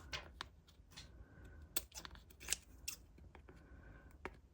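Scissors trim excess resin off a Christmas truck bauble, several close, crisp snips in an irregular rhythm amid quiet handling clicks.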